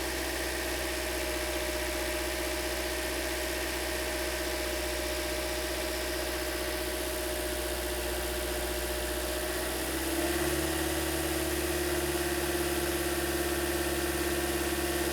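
A Toyota Corolla engine, on a 2008-2013 model with a newly replaced radiator and coolant connector, runs steadily at about 2,000 RPM, a constant close hum that shifts slightly higher and louder partway through.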